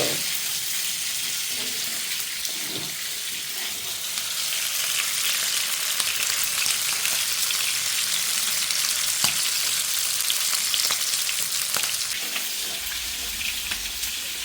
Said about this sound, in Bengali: মাংস ভাজা হচ্ছে গরুর মাংস